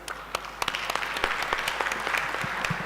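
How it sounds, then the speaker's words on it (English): Audience at a maternal and child health scientific conference applauding panelists, a thinner mix of distinct nearby claps over a softer blur of clapping, building slightly and staying steady across the room. "And a round of applause to the panelists."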